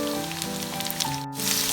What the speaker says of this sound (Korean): 당근을 슬쩍 볶아보도록 하겠습니다.